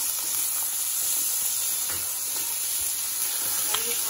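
Chopped potatoes for sabudana khichdi sizzle in hot oil with a bright, continuous hiss, loud and close, with faint stirring scrapes.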